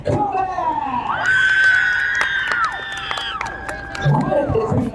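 At a high school football game, a stadium crowd cheers and shouts for a senior being honoured, the cheering building and holding loud over a public-address voice with high whoops and screams.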